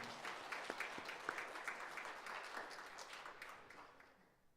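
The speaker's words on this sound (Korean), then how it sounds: "우리 영광의 박수를 올려드립니다" Applause from a sizable church congregation during a service, many hands clapping steadily, then gradually thinning and fading away toward the end.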